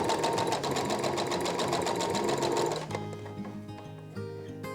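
A sewing machine runs in a steady, fast stitching whir for about three seconds while a top is sewn, then stops, leaving a quieter hum and faint clicks.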